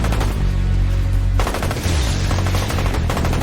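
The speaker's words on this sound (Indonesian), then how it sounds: "Mereka telah terkepung oleh pasukan Jack dengan tembakan di berbagai sudut" Heavy gunfire erupts from several directions in an ambush on a car, with loud rapid bursts and dense overlapping shots after a steady low rumble, continuing without pause.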